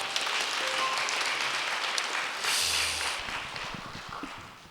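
A church congregation at a Christmas worship service claps in welcome for first-time visitors, a steady wash of mid-sized applause that swells briefly in the middle and then fades out.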